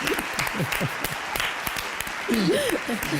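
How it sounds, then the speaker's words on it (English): Applause rises during a live football show about Athletic Club versus FC Barcelona in the Spanish Super Cup. It sounds as a steady, hissy wash of clapping beneath people talking and exclaiming throughout. "So round of applause"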